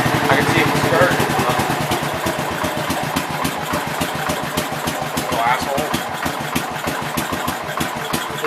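A 1967 424 engine with a carburetor runs close by, its rough, pulsing firing beat steady and loud throughout, with small swells as it picks up revs.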